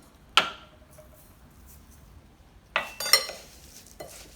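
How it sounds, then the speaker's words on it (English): A spoon stirs crackers, butter and poppy seeds in a dish for a poppy seed chicken casserole, giving a few sharp scraping clinks: one at first, then a cluster of scrapes and taps near the end, close with quiet gaps. "And then you're just going to stir all the crackers, butter, and poppy seeds until all of the crackers are coated"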